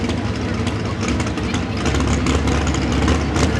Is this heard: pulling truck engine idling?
yes